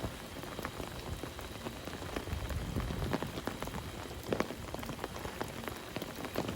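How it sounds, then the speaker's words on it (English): Steady rain patters on a golf course, a dense, continuous hiss of drops with scattered louder taps, heard alone without voices. "And rain's gone again."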